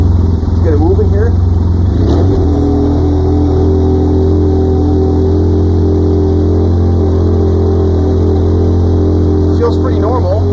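Starknight MT motorcycle running in high gear: a loud, steady engine drone with strong low harmonics holds throughout, close and constant, with a brief faint whistle-like tone near the start and the end.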